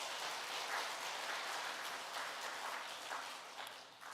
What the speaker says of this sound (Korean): 우리 찬양대와 하나님께 감사의 박수 올려드리겠습니다.